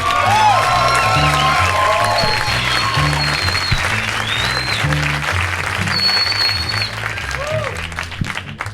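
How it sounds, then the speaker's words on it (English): Loud comedy club crowd at the Laff Stop in Houston bursting into sustained applause with whoops and cheers, a steady dense roar of many hands filling the room, with a low musical bed underneath. "How about a round of applause for Chuck?"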